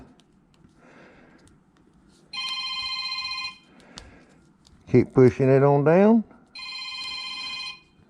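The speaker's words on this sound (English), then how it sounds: "And wouldn't you know it, my phone's going off." A mobile phone rings twice with a bright, repeating electronic tone during battery work, while someone speaks loudly between and over the rings.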